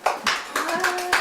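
A short burst of several people clapping, uneven and light, with a voice briefly audible alongside.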